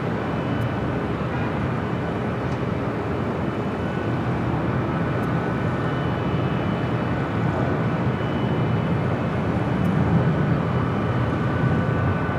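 Low steady roar of a two-year-old Airbus A321neo jet airliner at Los Angeles airport, a continuous broadband engine rumble holding level throughout with no voices.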